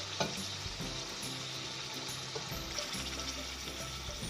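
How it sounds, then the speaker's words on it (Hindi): Chicken frying in a pot for a boneless chicken handi as half a glass of water goes in, a steady loud sizzle and bubbling hiss throughout with occasional stirring clinks. "अब हम इसमें आधा गिलास पानी डाल देंगे"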